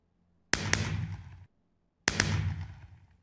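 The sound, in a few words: fireworks in a video game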